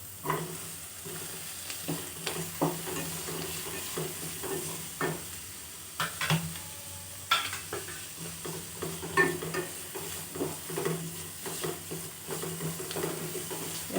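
Seven or eight cloves of garlic and a tomato sauté in oil in a pan for palak keerai, with a gentle background sizzle broken by repeated clinks and scrapes of a stirring spoon, close but fairly quiet.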